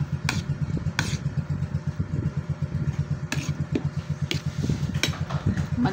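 A motorcycle engine idles close by with a low, pulsing exhaust rumble, punctuated by occasional sharp clanks and ticks.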